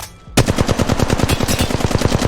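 Flatline assault rifle in Apex Legends firing a long sustained burst, loud rapid evenly spaced shots that start abruptly after a brief quiet moment and run to the end without a break.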